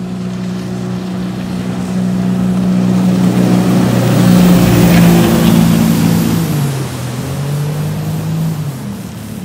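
A small motorboat, a canoe-type hull with a big engine, runs on a test run, its loud engine drone rising as it passes close and then easing away with a falling pitch, along with wind and water noise.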